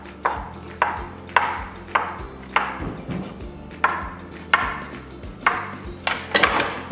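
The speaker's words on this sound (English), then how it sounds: "so now I'm up to cutting, so just either a knife or a pastry cutter, and we just cut them to" A knife or pastry cutter chops through soft gnocchi dough on a board, giving about ten crisp, evenly spaced cuts that knock against the surface, close up, with no talking.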